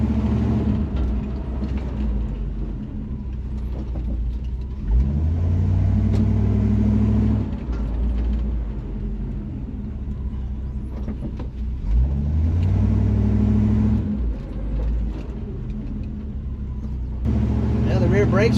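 A squarebody truck drives during rear drum brake testing, its engine rumbling and revving up in repeated surges as it accelerates and slows, close and steady, with someone talking over the drive.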